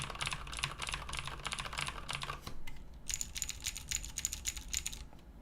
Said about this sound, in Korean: 밀크축의 이 클릭 소리가 구청축보다 크지 않은 것 같더라고요